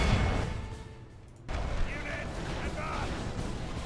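Units fire in a medieval fantasy battle in Medieval 2 Total War's Third Age mod, a dense rumbling barrage of booms and crackles that dips briefly and then surges back loud and continuous.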